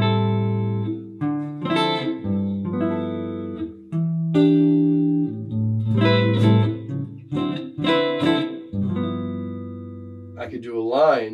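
A jazz guitar plays a bebop-style single-note line through chord changes, accenting guide tones in a string of clear, phrased notes with brief gaps. A voice briefly enters at the very end.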